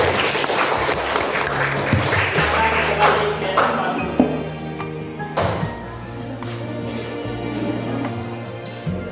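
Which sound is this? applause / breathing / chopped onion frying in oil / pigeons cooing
applause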